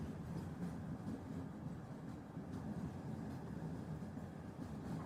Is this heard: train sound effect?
yes